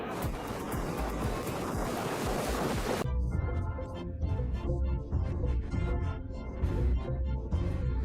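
Heavy sea swell churns around a small fishing boat pushing out to open water, a loud continuous roar of surf and wind that drops to a rougher, choppier wash of breaking waves and spray partway through.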